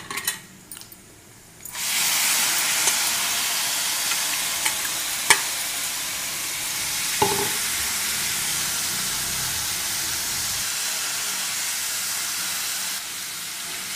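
Soaked toor dal sizzles steadily in a hot pan of spiced tempering after a quiet start, with a couple of sharp clinks of a spoon partway through.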